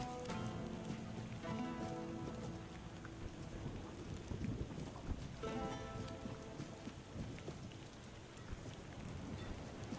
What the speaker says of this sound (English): It's a bit rainy.